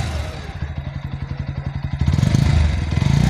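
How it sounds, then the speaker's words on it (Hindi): A Bajaj Pulsar NS 125 motorcycle idles close by with a steady, rapid thumping exhaust beat, then revs up slightly and runs louder and rougher toward the end. "अब मैं आपको इसके इंजन के और इसके एग्जॉस्ट के साउंड को चेकआउट करा देता हूँ"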